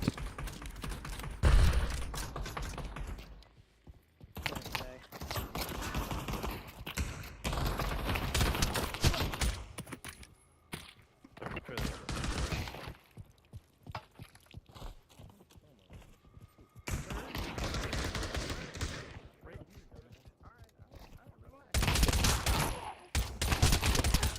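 Gunfire in the VR shooter Pavlov: bursts of shots in several dense clusters separated by quieter gaps, loud and close, with some talk mixed in.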